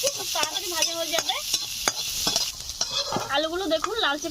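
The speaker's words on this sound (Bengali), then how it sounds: "আলুগুলো ছোট করে কেটে নিয়েছি, খুব তাড়াতাড়ি ভাজা হয়ে যাবে।" Small-cut potato pieces fry in hot oil in a wok, a bright continuous sizzle over which a spatula scrapes and knocks repeatedly, close and fairly loud, with no speech.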